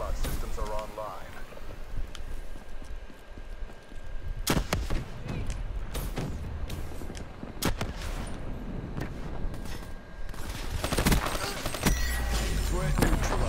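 Gunfire in the video game Black Ops III, with sharp shots and bursts scattered among game noise and a voice, growing denser and louder toward the end.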